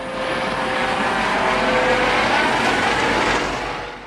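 Helicopter from the Coast Guard cutter Alex Haley hovering over a freighter during an emergency tow drill off Unalaska, a loud continuous rotor and turbine roar close overhead that eases slightly at the end.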